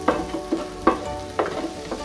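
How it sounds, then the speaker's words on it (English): Air-fried Chinese-style takeaway food tossed in a frying pan, stirred in four or five scraping bursts over a steady sizzle, close and fairly loud with no talk. "All you're gonna do now is literally just throw them into your frying pan."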